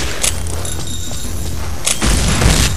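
A hand grenade explodes in the video game Counter-Strike Zero, a loud booming blast that arrives late and rolls on after a stretch of quieter background game noise.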